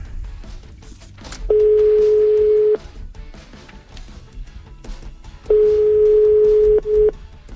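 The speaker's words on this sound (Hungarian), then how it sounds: "Hívjuk a naphallgatóját." Two long steady telephone ringback tones on a morning radio show call, separated by a pause, loud and close over faint background noise.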